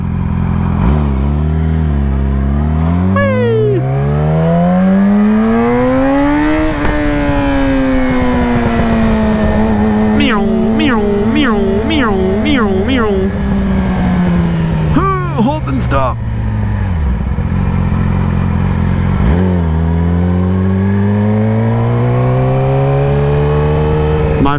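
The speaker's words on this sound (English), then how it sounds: "Nasty traffic." Busy road traffic with a car engine revving and surging close by, loud and continuous, pitch rising and falling as vehicles accelerate and pass, with brief high tones and a voice speaking over it.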